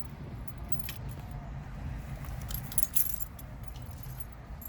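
A working key being removed from a Nissan during key fob programming, a soft metallic jingle and clink of keys near the end over a low rumbling background, close and quiet, with no talking.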